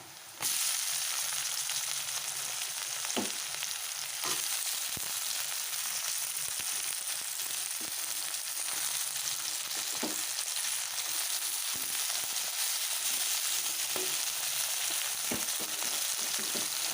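Tomato fries in a pan for a fish-head lentil dal, starting with a sudden burst as it hits the oil, then a loud, steady close sizzle with occasional light stirring clicks throughout, and no speech.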